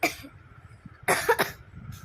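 A single hoarse cough bursts out after a quiet stretch, followed by a softer cough at the end, close to the listener.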